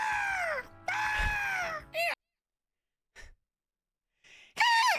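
A person imitates a screeching pterodactyl with strained, rising vocal screeches broken by pauses and breathy gasps, loud and close.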